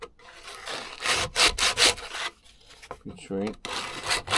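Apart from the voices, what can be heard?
sanding wood with sandpaper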